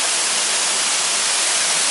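Wang Tum waterfall in Phetchabun, about 30 metres high, roars as a steady, loud broadband rush of falling water, continuous and unbroken throughout.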